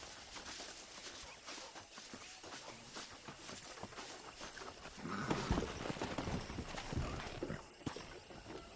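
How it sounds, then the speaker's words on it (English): Horses clip-clopping across ground in the video game Red Dead Redemption, a steady stream of hoofbeats that grows louder and busier partway through, with ambient background noise and no speech. "Let's see if we can't wrangle some horses."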